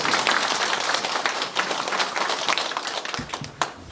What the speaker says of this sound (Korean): 우리 군수님 위해서 박수 한번 부탁드릴게요